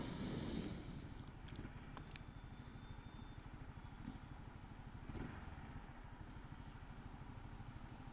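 A Honda ADV 350 scooter idles with a steady, low engine hum throughout, close by and partly covered by gusty wind noise, with no one talking.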